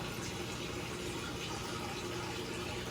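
Water rushes and bubbles steadily from a saltwater aquarium pump blowing through rocks, a constant gushing hiss with no pauses.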